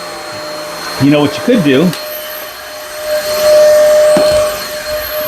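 A Vacfore cordless stick vacuum runs with a steady airy whine while picking up sheetrock mud debris. Someone talks briefly over it, and a few rattling pickups are heard.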